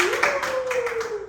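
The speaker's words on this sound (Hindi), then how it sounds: "ताली नहीं बजाओगे?" Hand claps in a dance class, a short run of several quick, evenly spaced claps heard close by, with a faint sustained tone running underneath.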